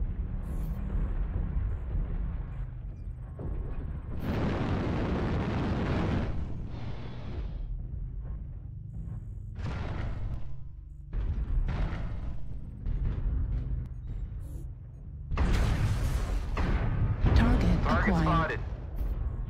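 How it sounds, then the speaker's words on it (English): Artillery strike explosions in MechWarrior Online, a run of heavy rumbling blasts and bursts at mid distance, heard mixed under players talking over voice chat. "Artillery strike online."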